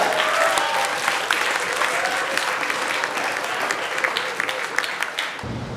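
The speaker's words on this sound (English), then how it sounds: "Let's give ourselves a big round of applause." A conference audience applauds in a dense, steady wash of clapping at a Philippines solidarity gathering, loud and sustained before cutting off abruptly near the end.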